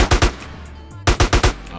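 Shotgun fire in the video game GTA San Andreas Definitive Edition, with two quick close blasts, a pause, then four more loud, sharp shots in rapid succession.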